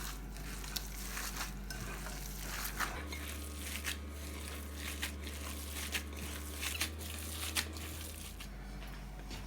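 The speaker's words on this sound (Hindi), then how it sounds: "अब हम इन तमाम चीज़ों को मिक्स कर देते हैं अच्छी तरह।" Kabab tikki ingredients and oil are mixed by hand, giving soft squelching, crinkling and mashing sounds. The sounds are close, quiet and irregular, over a low background hum.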